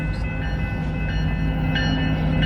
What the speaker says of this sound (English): we have caught a Burlington Northern Santa Fe train here